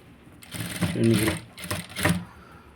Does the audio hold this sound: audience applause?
no